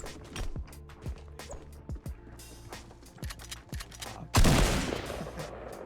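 Rapid bursts of gunfire in Fortnite: Battle Royale aimed at the player, a string of sharp repeated shots followed by a louder close blast near the end.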